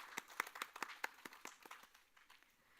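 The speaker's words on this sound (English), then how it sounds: "Can we have a big round of applause for the sponsors?" A small conference audience gives sparse, fairly faint applause for the sponsors, with a few distinct claps standing out at first before the clapping tapers off.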